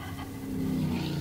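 A stock race car engine refires after a spin under caution at Jennerstown, a low steady rumble that swells slightly as it picks up revs, heard alone.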